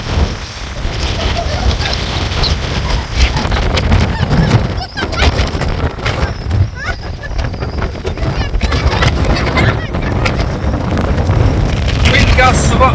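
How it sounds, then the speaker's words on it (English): Strong Storm Amy wind gusts batter the microphone at Jenny Cliff on the coast, a loud, continuous roaring buffet that surges and dips with each gust. "Wind gusts of up to 60 to 80 miles an hour."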